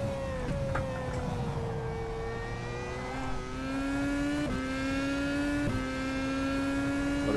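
A Marussia F1 car in rFactor 2 at Silverstone howls through the gears, a loud sustained engine whine rising in pitch with quick drops at each upshift, heard without speech.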